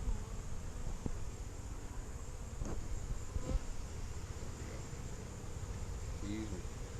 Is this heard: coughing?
no